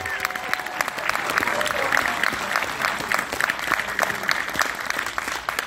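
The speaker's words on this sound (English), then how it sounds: "Can we just give them a round of applause?" Sustained applause from a movie premiere crowd, with scattered cheers and voices mixed into the clapping.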